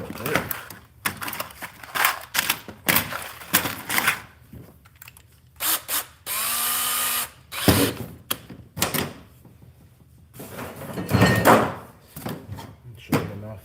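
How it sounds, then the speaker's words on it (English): A power drill whirs in one steady burst of a second or so, drilling into the floor of a jon boat under construction, between scattered knocks, clatter and bits of talk. "I also need my drill bit"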